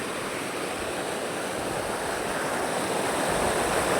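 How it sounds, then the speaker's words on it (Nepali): Steady broadband rush of a mountain stream flowing at a river crossing on a fishing outing, continuous and fairly close, with no voices over the water. "खोला तर्नेवाला छौँ हामी यहाँ"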